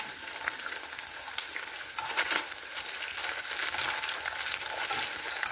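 Tocino fries in a pan with a busy, crackling sizzle, close and steady throughout, broken by occasional stirring scrapes.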